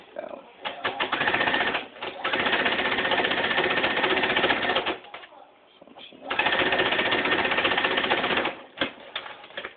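A sewing machine stitching fleece fabric runs in two long, steady bursts of rapid stitching, close and loud, with a short pause between them.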